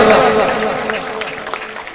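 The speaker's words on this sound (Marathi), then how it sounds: "एकदा जोरदार टाळ्या वाजवा सार्थकसाठी, जोरदार टाळ्या सगळ्यांनी वाजवा" A crowd applauds a young player at a cricket final, a steady wash of clapping that slowly fades while an announcer talks over it.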